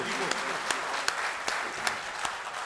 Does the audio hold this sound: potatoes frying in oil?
no